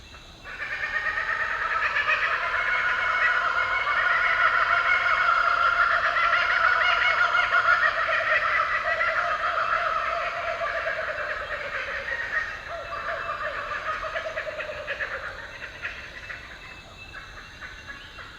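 A kookaburra's raucous laughing call plays back loud and unbroken for about seventeen seconds, rising and chattering in a continuous rolling cascade with no voices over it.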